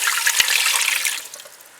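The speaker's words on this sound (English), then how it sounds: "We're adding in 2 cups of water" Water pours into the pot of a Ninja Speedi cooker, a close splashing gush that begins strongly, then tapers off toward the end.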